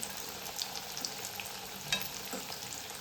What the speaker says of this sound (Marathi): आता स्लो फ्लेमवर मी तळून घेणार आहे तर वडी आहे ती उलट सुलट करून घेणार आहे